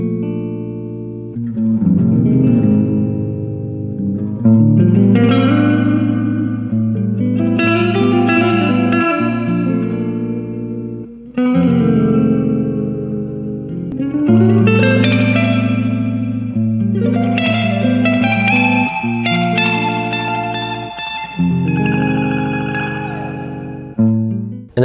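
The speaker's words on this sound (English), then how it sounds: "There's a spring reverb." An electric guitar plays chords and short melodic phrases through a JOYO Atmosphere reverb pedal's spring setting, with a splashy, lingering tail ringing after each strum.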